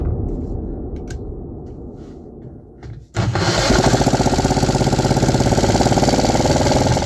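A 3D printed engine with a poorly tuned idle starts abruptly after a quiet stretch with faint noises, then runs loud and close with a fast, even, rattling chug.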